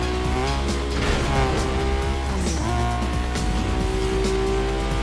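A modified Nissan roars through a race in Need for Speed Most Wanted, its engine climbing and shifting through gears while tires squeal and skid, loud and close with no talk over it.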